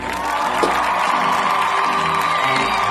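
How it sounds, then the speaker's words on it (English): Cheering and applause from a graduation ceremony crowd honoring the teachers, a steady, dense wash of clapping with whoops and shouts that holds loud and continuous throughout. "So give yourself a round of applause because you did your job great"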